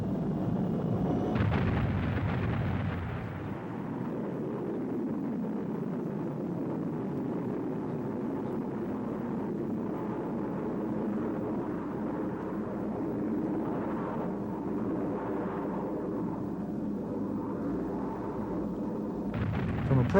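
An early ballistic missile test rocket roaring at launch, a long, dull, rumbling blast that rolls on and slowly fades, heard at a distance with a fresh thump near the end.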